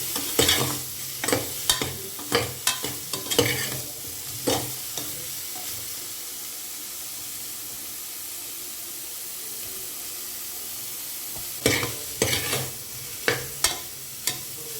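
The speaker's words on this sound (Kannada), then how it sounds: "ಒಂದು ಎರಡು ನಿಮಿಷ ಅದು ಎಣ್ಣೆಲಿ ಚೆನ್ನಾಗಿ ಫ್ರೈ ಆಗಲಿ" Squeezed soya chunks fry in hot oil for a high-protein pulao, with repeated scraping stir strokes in bursts over a steady close sizzle and a quiet gap in the middle.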